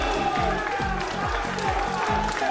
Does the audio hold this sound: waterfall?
no